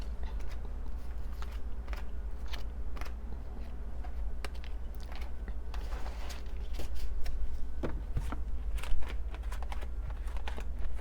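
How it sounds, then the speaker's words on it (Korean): Tarot cards being drawn and shuffled from a deck during a reading, giving soft, repeated papery flicks and taps over a steady low background hum, fairly close and quiet throughout. "오늘은 카드를 좀 많이 뽑아볼게요"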